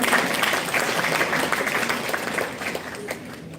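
Clapping fills the room at an International Women's Day event at Lloyd Institutions for a panelist, Mr. Ajit Sood, a steady dense patter of applause that eases slightly toward the close.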